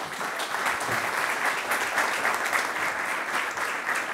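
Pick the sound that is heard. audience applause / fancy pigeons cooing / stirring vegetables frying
audience applause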